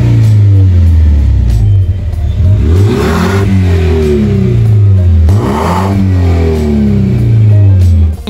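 Audi A4 B6 on Porsche Macan wheels with an aftermarket exhaust, revving loudly and close: a steady deep idle rises into two sweeping throttle blips and falls back, with no talking.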